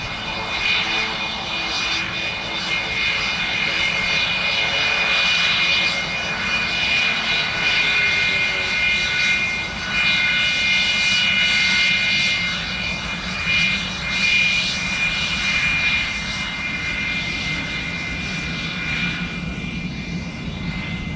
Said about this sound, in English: What a beautiful aircraft